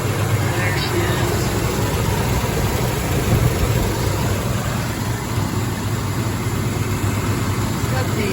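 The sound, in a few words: 1968 Plymouth Valiant engine idling after hot start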